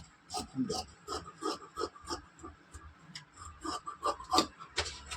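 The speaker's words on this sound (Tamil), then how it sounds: "கட் பண்ணிவிட்டு கடைசி வரைக்குமே இப்படி கட் பண்ணி எடுத்துக்கலாம்." Scissors cutting blouse fabric, close by, in quick repeated rasping snips with short pauses between runs of cuts.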